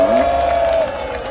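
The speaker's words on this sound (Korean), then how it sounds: "큰 박수로 환영해 주시기 바랍니다" A crowd applauds and cheers for about a second, with a sustained whistle-like tone riding over the clapping.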